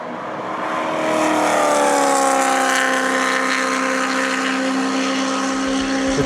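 BMW M3 engine at speed on a race track, a loud rising-then-steady howl with strong harmonic whine that climbs briefly before settling into a sustained high-revving wail, with no talk.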